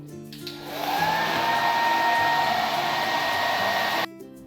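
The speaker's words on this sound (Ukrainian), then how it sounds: "Я вмикаю фен і буду дути нашу повітряну кулю." A hair dryer switches on and blows with a steady, loud whirring roar for several seconds, then cuts off abruptly.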